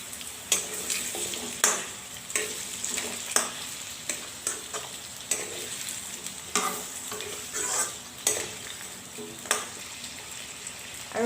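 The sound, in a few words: pumpkin and potatoes frying in a pan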